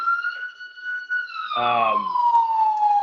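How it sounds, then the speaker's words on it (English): A wailing siren in New York City sweeps up and down steadily in the background, with a deep horn blast breaking in briefly while a voice speaks. "the sirens going on in the background. Classic New York."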